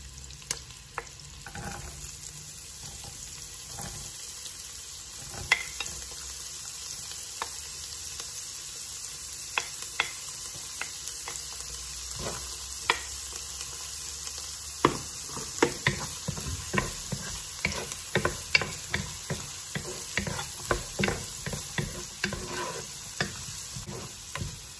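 A spoon scrapes and stirs vegetables through a pot with celery and carrots, steady and close over a bed of soft sizzling, with no voices.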